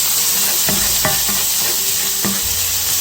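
Garlic sizzles in a pan while pumpkin mac and cheese is being made, a continuous close frying hiss broken by a few clicks and scrapes of stirring, with no talk.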